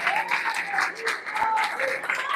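A church congregation at Eclésia Miami claps during a Portuguese sermon: brief, moderately faint applause mixed with voices and a sung or spoken tone, fairly distant.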